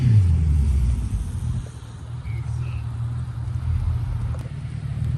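A Honda Civic rolls into a car meet, its low engine rumble steady and fairly loud up close, easing briefly before holding on amid background crowd noise.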